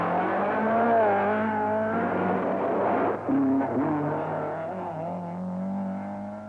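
Rally cars race flat out on a forest stage of the 1971 Circuit of Ireland, engines revving and droning close by with a brief lift around the midpoint, loud and steady throughout.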